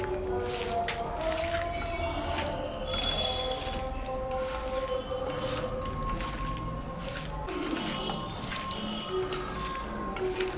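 Thinly sliced potato is squished and kneaded by hand with fish and spices, wet squelching and slapping going on continuously at close range. A home kitchen murmur sits underneath the constant moist mixing.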